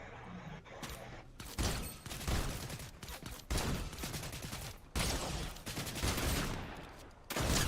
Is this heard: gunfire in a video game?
yes